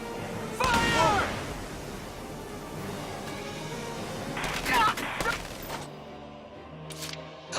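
Gunfire erupts in the tactical war game Valkyria Chronicles 4: a sharp volley of shots near the start, then another cluster of bursts a few seconds later, over a steady bed of battle noise.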